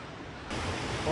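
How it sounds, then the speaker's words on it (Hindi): A small waterfall in a mountain valley spills over stones with a steady, broadband rush, growing louder partway through. "पहुँचे एक छोटा सा वाटरफॉल की तरफ बना हुआ, पानी ऊपर से नीचे आ रहा पत्थरों के अंदर से"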